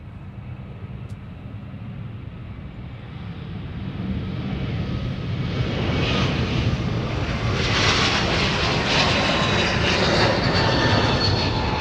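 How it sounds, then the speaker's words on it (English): A Delta Airbus A321neo jet departs on the runway, its engine roar swelling from a steady rumble to a loud, sustained thunder as the takeoff run builds. "Delta 377 to Anchorage is now departing off of the South Parallel with a 321 Neo"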